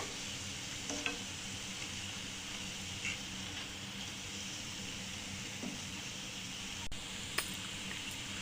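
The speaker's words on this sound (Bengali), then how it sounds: "এই রকম কালার করেই মিষ্টিটা উল্টে পাল্টে ভালোভাবে ভেজে নিতে হবে" Bread sweets frying in hot oil, a steady close sizzle throughout with a few soft clinks and scrapes as the pieces are turned over, no talk.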